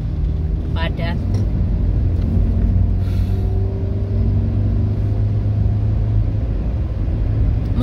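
Steady low engine rumble from inside a car driving through heavy traffic, continuous and fairly loud, with a few faint squeaks and clicks over it and a voice talking throughout.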